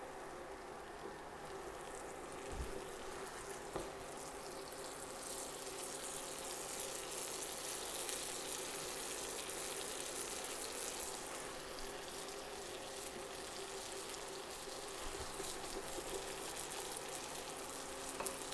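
Hash browns fry in butter in a pan with a constant, fine crackling sizzle, with a couple of soft knocks and no voices.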